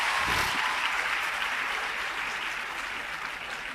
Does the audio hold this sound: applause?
yes